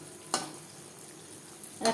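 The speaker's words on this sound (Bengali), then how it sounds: "মিষ্টিগুলো ভাজবো লো টু মিডিয়াম ফ্লেমে" Chhanar jilapi sweets fry in oil over a low-to-medium flame, a soft continuous sizzle broken by two brief sharper bursts of crackling.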